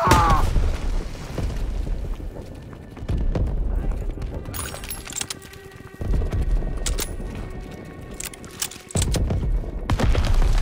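Booming artillery in the Call of Duty WW2 D-Day battle, heavy blasts rolling in repeated waves with scattered gunfire and clatter, mixed with shouting voices.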